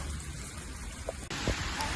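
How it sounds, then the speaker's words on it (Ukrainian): Heavy rain pouring on a rural farmyard where ducks and chickens are kept, a constant hiss of drops on surfaces that grows louder and denser partway through, with a few sharp taps over it. "Так, а дощ не на шутку."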